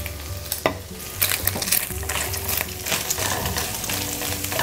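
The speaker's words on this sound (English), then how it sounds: "you're going to add the sliced mushrooms and the whites of the green onions. We just want to saute these until they're tender." Sliced mushrooms and green onion whites sauté in a pan with pancetta, making a loud, continuous frying sizzle broken by repeated clattering scrapes of a utensil stirring the pan, with no talk.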